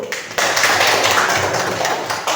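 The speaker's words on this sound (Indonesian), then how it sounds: "Oke, tepuk tangan dulu untuk Ibu." A burst of clapping starts suddenly and carries on steadily, a small group applauding a teacher close by in a classroom with no talking.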